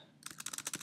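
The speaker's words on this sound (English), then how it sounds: "I'm going to type the closed header tag." Rapid keystrokes on a computer keyboard while coding an HTML closing tag: a short, steady run of close, crisp clicks starting after a brief quiet moment.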